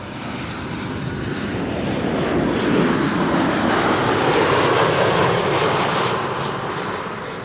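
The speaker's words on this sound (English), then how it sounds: "Over here we have a white-nosed KLM 737." A white-nosed KLM Boeing 737 airliner arrives at Amsterdam Schiphol Airport, its jet roar building loud and close, peaking midway as it passes, then easing slightly, with no talking.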